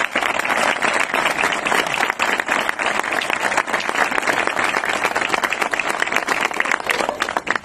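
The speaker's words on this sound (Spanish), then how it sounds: "quiero pedir un fuerte aplauso para muchos compañeros" Sustained audience applause at a public works event in José C. Paz, dense and steady clapping from a sizable crowd for the full length, fairly loud and close.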